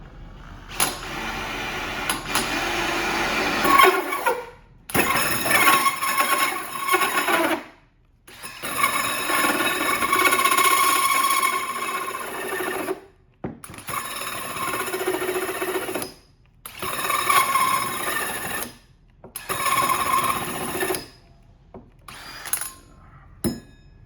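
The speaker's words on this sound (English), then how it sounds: "So I'll take a hole saw, and usually you'll take at a bare minimum a 2-inch or a 3-inch hole saw." A hole saw on a battery drill cuts into a Corian countertop for an undermount sink, grinding in several loud bursts of a few seconds each, separated by short pauses as the cut stops and restarts.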